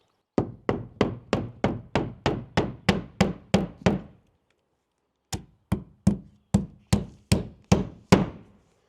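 Knuckles knock on a cabin wall to locate studs: a run of eleven evenly spaced hollow thunks, a short pause, then eight more knocks, close and clear with no talking.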